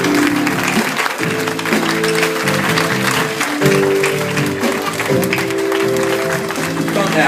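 A church congregation applauds and cheers continuously for the Holy Spirit, a dense, steady mass of clapping mixed with voices and music, fairly loud throughout.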